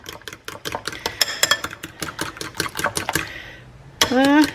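Leftover eggs being beaten in a bowl with a utensil make rapid, rhythmic clinking and tapping against the bowl, close and distinct, then stop before a brief different sound at the end.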